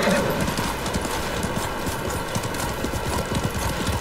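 Horses in the samurai video game Ghost of Tsushima walk with steady clip-clop hoofbeats and give a brief neigh near the start, over constant background ambience and soft voices.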